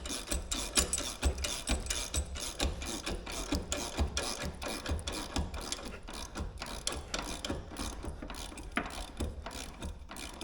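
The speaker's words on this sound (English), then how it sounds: "this is just finger tight, and now I'm tightening it." A hand ratchet tightening a bolt on a CAT 289D3 compact track loader, rapid repeated metallic clicking of the pawl in quick bursts, close up, with no talking.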